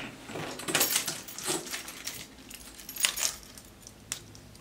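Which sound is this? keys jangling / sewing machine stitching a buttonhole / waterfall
keys jangling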